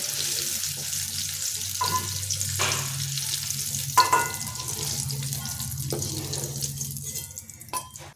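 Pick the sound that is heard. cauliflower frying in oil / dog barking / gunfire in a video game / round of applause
cauliflower frying in oil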